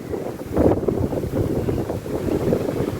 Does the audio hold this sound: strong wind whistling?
yes